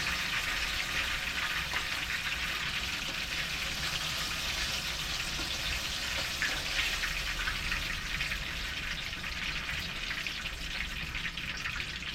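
Banana pieces fry in oil in a pan, a steady close, hissing sizzle that runs unbroken throughout with no talk.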